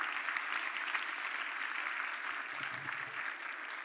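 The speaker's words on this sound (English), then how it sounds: "give ourselves a round of applause for what we do." Audience at an awards ceremony for public service breaks into sustained applause, a dense even clapping that holds steady for a few seconds.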